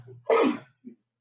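A single sharp sneeze burst, close and fairly loud, followed by a brief soft breath or sniff.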